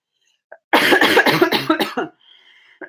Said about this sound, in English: I'm starting to cough a lot.